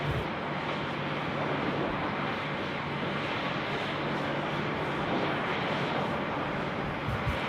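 Hawker 800 business jet taking off at Sydney Airport, a steady broadband engine roar that holds loud and unbroken throughout with no talking.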